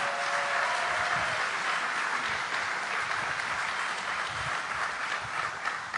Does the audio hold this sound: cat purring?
no